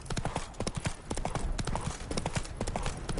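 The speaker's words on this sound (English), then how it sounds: "Spooking my horse." Horse hooves from The Witcher 3 clatter in a steady, rapid clip-clop rhythm for the whole stretch, close and fairly loud over a faint ambient background.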